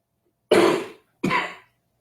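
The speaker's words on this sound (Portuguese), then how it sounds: "Você começa a falar, começa a tossir." Two harsh coughs from one person, the second shorter, close and loud with a brief silence between.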